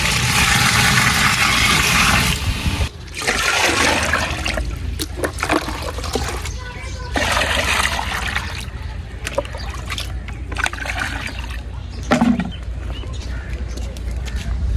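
Water pours and splashes heavily from three containers into a 12 kg degh cooking pot for chana pulao, for a long stretch, with brief pauses and some clunking in between.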